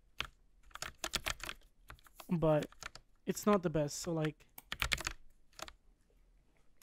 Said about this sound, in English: The sound of the keyboard